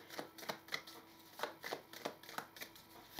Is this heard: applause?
no